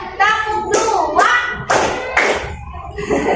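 Children in a classroom clap along with a teacher in a counted pattern, several sharp claps coming in bursts, overlapping with voices calling out.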